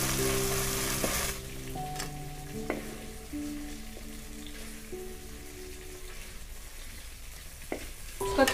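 Chopped onions and tomatoes sizzle and crackle steadily in a hot pan for a village-style paneer dish, with spoon scrapes and clinks against the metal and a few sharp tones; close and continuous, without speech.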